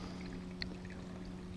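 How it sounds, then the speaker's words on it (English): A slight trickle of water runs at Shetucket Falls during a drought. The flow is faint and steady beneath a low hum, with one brief splash-like tick partway through. "there's a trickle of water coming"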